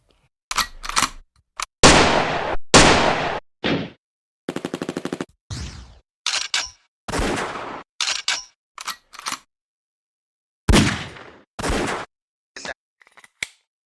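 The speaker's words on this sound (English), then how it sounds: "It's kind of like the ultimate gun sound." Trap drum-kit gunshot samples fire in a loud, punchy sequence of single shots and short rapid bursts separated by silence, with bright cracks and decaying tails.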